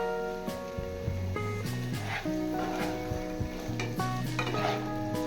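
Mixed vegetables with peas and capsicum fry in oil in a pan for a vegetarian navratan korma, giving a continuous close sizzle with occasional stirring scrapes, while steady tonal sound runs underneath.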